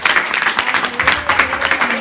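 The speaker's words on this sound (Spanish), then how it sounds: "denle un fuerte aplauso a nuestro Señor y Salvador" A congregation claps and cheers for the Lord at a Spanish-language church service, a dense, steady burst of clapping throughout.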